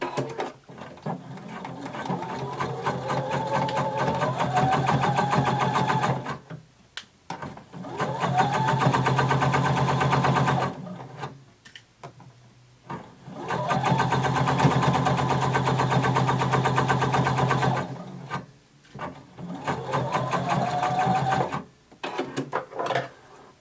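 A sewing machine stitches a 5/8-inch seam down a bodice for Simplicity pattern 1276 in four long runs of rapid whirring, each a few seconds long and split by brief silent pauses, loud and close.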